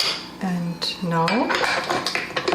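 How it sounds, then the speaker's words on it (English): Yeast, eggs and butter stirred into pastry dough in a bowl, with close, loud clinks and scrapes of a utensil against the bowl coming in uneven bursts. "I stir it and make a very nice dough out of it"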